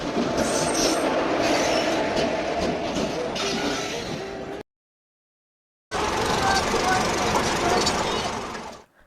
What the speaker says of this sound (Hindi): अब जाएंगे रेलवे स्टेशन और वहां से पकड़ेंगे अपनी ट्रेन।